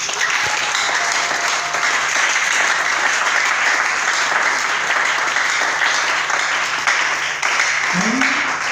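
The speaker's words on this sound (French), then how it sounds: "Est-ce que tu peux acclamer pour la parole?" A congregation applauds at a French-speaking church service, with steady, loud clapping filling the whole stretch and voices mixed in beneath it.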